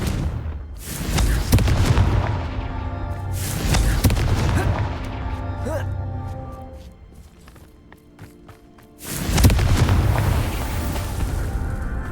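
Confringo spell fired in Hogwarts Legacy: loud booming fiery blasts with rumbling bursts, a quieter spell-effect stretch between them, and a heavy explosion returning near the end.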